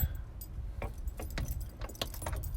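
An assortment of keys jangles outdoors on a snowy day, with several sharp metallic jingles spaced across the moment over a low background rumble, close and fairly loud.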